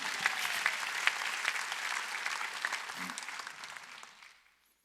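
A congregation claps during a church service, a steady wash of applause that gradually fades out to silence.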